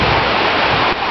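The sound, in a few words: sea waves at the beach in Rimini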